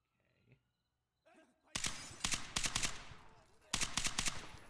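Assault rifle fire in the video game Zero Hour comes as two loud, rapid automatic bursts after a few quiet moments and faint handling noises.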